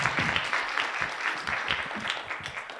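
Brief applause from an audience at a masterclass, a dense burst of clapping lasting under three seconds.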